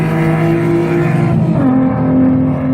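A white Alfa Romeo Alfetta GTV race car's engine drones steadily at close range during a classic Italian car race, its pitch shifting partway through as it passes, with no voices over it.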